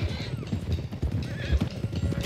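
Horses in Red Dead Redemption 2 gallop in a steady, close clip-clop rhythm while one whinnies over the hoofbeats, with rustling movement throughout.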